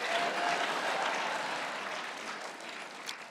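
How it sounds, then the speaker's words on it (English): An audience applauds at a food media awards ceremony, a broad sustained wash of clapping that starts strong and slowly fades over a few seconds, with no talk over it. "I hope we're applauding for Lauren"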